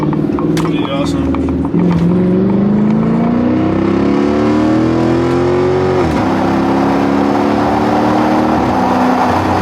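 A Chrysler 300 accelerates in traffic, its loud engine note rising through the gears with a drop at a shift, heard from inside the car while someone talks over it.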